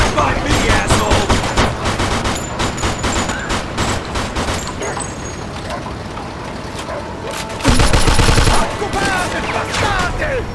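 Dense, continuous gunfire in a Mafia II shootout, rapid crackling bursts layered with mechanical clatter and shouting voices, growing louder with a heavy burst near the end.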